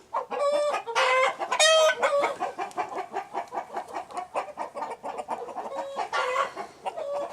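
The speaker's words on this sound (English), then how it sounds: "So the chickens are happily eating desperdicios." Chickens cluck continuously nearby while eating food scraps, with several bursts of louder squawking calls rising above the steady clucking chatter.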